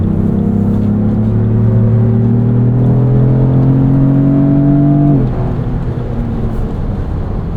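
A 2024 Lexus GX 550 Overtrail pulling hard, its engine droning loud and steady as the pitch climbs smoothly, then dropping sharply at a quick gear change before building again; heard from inside the cabin with no talk.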